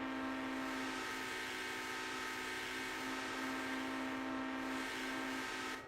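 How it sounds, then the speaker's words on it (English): A locomotive horn in the train game Railroader holds one long steady chord for several seconds, loud and unbroken, with no voices over it. "And what's the horn?"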